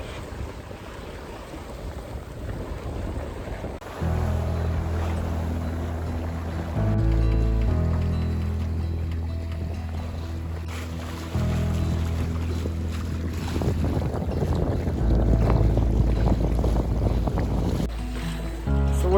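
Steady wind and water rush while sailing a sailboat toward South Haven, a continuous broadband roar that swells louder at times, with faint underlying tones and no talk.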